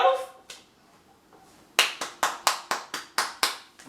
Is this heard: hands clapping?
yes